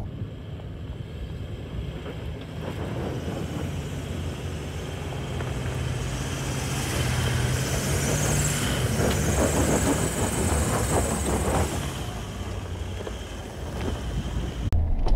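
A Toyota Land Cruiser 200 climbs a hill off-road in rock mode, with a steady engine drone and rumble building in the middle, mixed with wind buffeting on the microphone and no talking.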